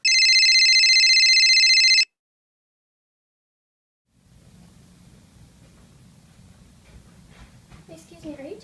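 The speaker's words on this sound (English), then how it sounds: "Is that a phone?" A mobile phone rings in a classroom with a short electronic tone for about two seconds, then silence, followed by faint room noise and rustling.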